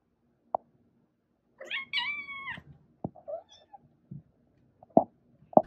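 A cat meows in a rising, drawn-out call amid a few sharp taps and soft clunks during toilet training, fairly close in a quiet room.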